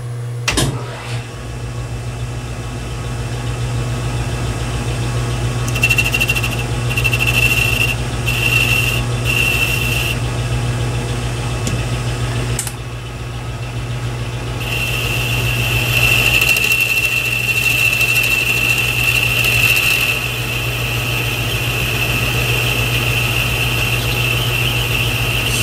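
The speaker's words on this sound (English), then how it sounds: "So this boring bar is going to straighten the hole out real nice." A metal lathe runs with a boring bar cutting inside a hole in a steel carriage stop thimble, giving a steady motor hum with a thin whine that comes and goes as the cut engages.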